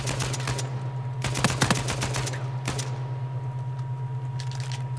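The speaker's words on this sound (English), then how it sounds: "Quit shooting me like this." Rapid automatic gunfire from an Uncharted 4 online multiplayer match, with clustered bursts of sharp cracks and a few isolated shots over a constant low game hum.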